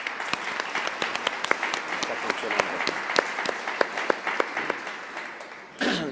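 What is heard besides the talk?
audience applause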